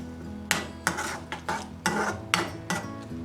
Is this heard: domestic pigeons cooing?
no